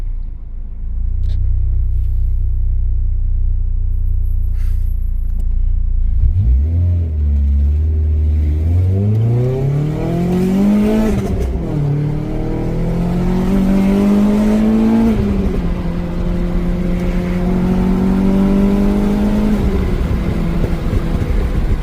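A Renault Clio RS engine idles low, then revs hard and accelerates, its pitch climbing through several gear changes before holding a loud, steady drone.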